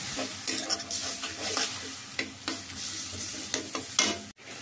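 Ginger and garlic paste stirred in a hot frying pan, steady sizzling under repeated close scraping strokes of a spoon, with a short sharp clatter near the end.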